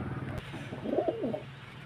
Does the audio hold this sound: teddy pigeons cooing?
yes